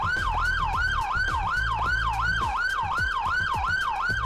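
A police vehicle's yelp siren sounds alone: a fast, loud, continuous wail that rises and falls in quick regular cycles, about two to three per second.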